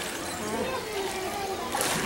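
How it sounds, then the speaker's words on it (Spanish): Water splashing and sloshing, likely at an aquarium or seal exhibit, a steady wet wash over the whole moment with a voice faintly talking in the background. "¿Viste cómo juega el agua?"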